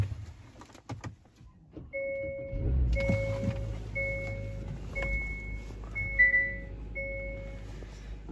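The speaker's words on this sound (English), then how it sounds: "let's try to start up the car" A 2022 Hyundai Sonata's engine cranks and settles into a low idle rumble, while a chime sounds in a repeating two-tone pattern above the running motor.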